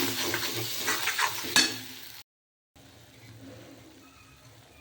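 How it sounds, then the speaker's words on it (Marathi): Moth bean (matki) curry hitting a hot pan, giving a loud close sizzle with stirring for about two seconds, then a brief silence and a softer, steady simmering hiss. "ही अशी मटकीची भाजी शिजायला टाकते आपण."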